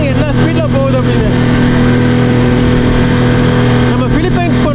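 A speedboat with a big engine runs at high speed with a steady, loud, droning roar and rushing water throughout, a voice speaking over it.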